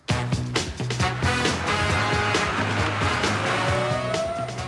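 A small Tazzari Zero electric car's motor revs up steadily as it accelerates, a rising whine over continuous road and motor noise, close and fairly loud.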